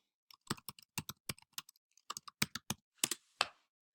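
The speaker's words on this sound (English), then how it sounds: "So if I type in a couple more keywords to try to narrow my results" Keywords being typed on a computer keyboard, heard as a quick burst of crisp, close key clicks in an uneven rhythm with short pauses between them.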